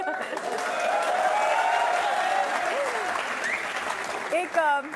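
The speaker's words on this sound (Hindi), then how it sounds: "देखिए तालियों की गड़गड़ाहट कह रही है कि बिल्कुल नहीं" Studio audience at an interview with two actors breaks into steady, loud applause lasting throughout, with voices rising over the clapping near the end.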